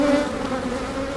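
Honey bees buzz steadily around an open hive on a small farm, a close, continuous droning hum with no voices.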